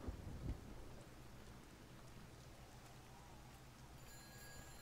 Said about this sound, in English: it's just raining now